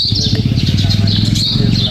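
Birds at Khijadiya bird sanctuary in Jamnagar chirp and tweet close by in quick, busy bursts over a low voiced murmur in the background.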